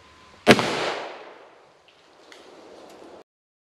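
A single loud, close gunshot fired at a fake diamond target outdoors, a sharp crack followed by a long rolling echo that fades, then faint clicks.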